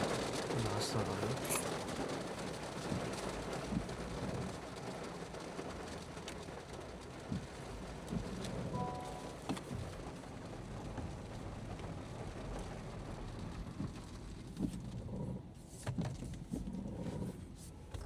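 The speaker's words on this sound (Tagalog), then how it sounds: "Lakas ng ulan." Heavy rain drums on a Honda Civic RS e:HEV 2025 on a morning drive, a dense steady wash of patter with scattered louder drops, easing slightly toward the end.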